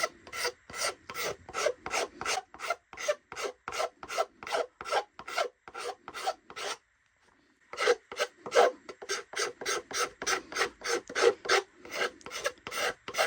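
Steady rhythmic rasping strokes of sanding the wooden head of a seven-string lyre, repeated quickly and evenly, pausing briefly midway before resuming at the same pace, close and fairly loud.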